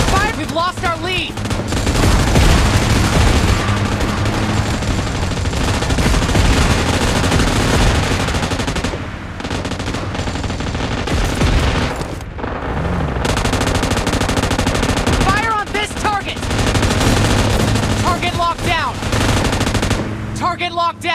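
Rapid automatic gunfire and machine-gun bursts from the battle royale game PUBG Mobile, loud and sustained through a dense mix of game effects, with a voice calling out over the shooting.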